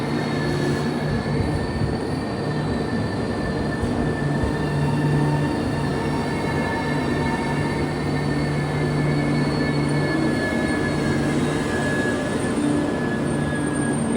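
Tourist train on a platform at New Jalpaiguri station in West Bengal, with a steady rumble and faint tonal hums or squeals throughout, continuous and fairly close, no speech.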